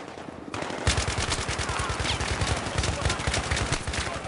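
Rapid automatic gunfire from the video game Battlefield 3, a dense rattling burst that starts after a brief quiet moment and keeps hammering steadily, loud and close, with no pauses.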